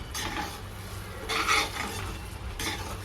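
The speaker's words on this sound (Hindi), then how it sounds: "चिकन का मसाला भून रहा है" Chicken masala being fried and stirred in a pan in a home kitchen: a steady low sizzle with three scraping strokes of a spoon against the metal, close and moderately quiet, no voices.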